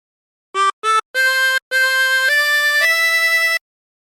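A 16-hole tremolo harmonica plays a slow six-note phrase of the hymn Be Thou My Vision, two short notes then longer held tones with a wavering shimmer, clear and close.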